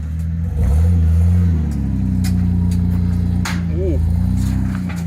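A Nissan Patrol's V10 TDI engine hums loudly and steadily up close, revving slightly near the start and holding a low drone, with a brief chirp midway.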